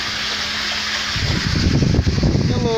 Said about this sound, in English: The pump is pumping water now on the roof.